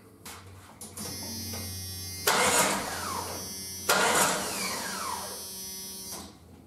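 A Jeep 4.0 inline-six is bumped over with the starter in two short cranking bursts, each a loud whirring churn that fades out, with quieter mechanical noise between them and no voices.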